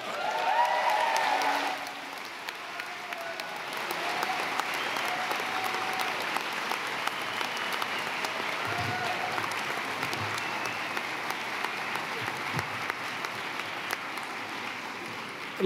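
Commencement audience at a 2017 graduation applauding the graduates: a broad, sustained wash of clapping from a large crowd that carries on steadily for the whole stretch, with a brief voice near the start.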